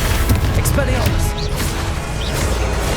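Expelliarmus disarming spell in Hogwarts Legacy, a sharp whooshing crack followed by booming hits and bright whistling flourishes amid dense combat noise, with a voice speaking underneath.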